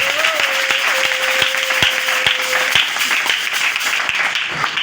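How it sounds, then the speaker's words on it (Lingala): Church congregation applauding, a dense, continuous patter of many hands clapping at close range, with a sustained tone and scattered sharp claps running through it. "Est-ce qu'on peut acclamer pour le Dieu de notre Père?"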